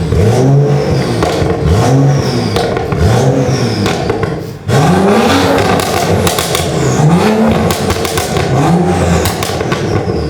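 A BMW 335i turbocharged three-litre engine revs hard repeatedly, pitch rising and falling through gear changes, loud and close with a brief drop in between.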